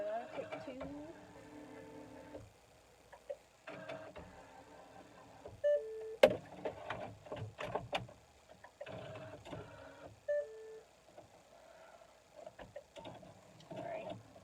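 An embroidery machine stitches in quick mechanical bursts of whirring and clicking, with beeps and quiet pauses between runs, close and fairly soft.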